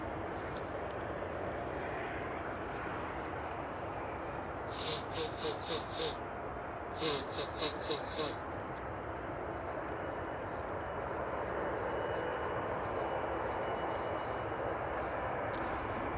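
A blue airliner roars at Amsterdam Schiphol Airport as a broad, steady rush of engine noise that swells slightly toward the end, with a couple of short bursts of rapid clicking partway through.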